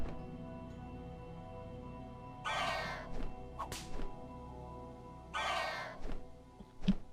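A crow-like bird caws in the Tombwater video game, with two raspy bursts a few seconds apart over a low steady ambient hum, mixed with scattered thuds and knocks, with no talking.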